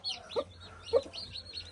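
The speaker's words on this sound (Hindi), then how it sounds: "सिल्की ये मुर्गी है" A silkie hen clucks close by, giving two short soft clucks about half a second apart over faint background noise, with no speech.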